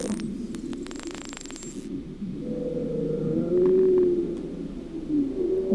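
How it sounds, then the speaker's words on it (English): Bowhead whale underwater recording played in a video game: low, drawn-out moaning calls that rise and waver over a steady watery rumble, following a brief burst of clicks and static. "Bowhead whale."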